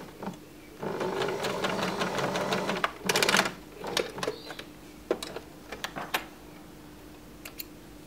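Sewing machine stitching along the very edge of a bra extension, a steady mechanical whir for a couple of seconds followed by scattered clicks and short needle bursts, close and alone.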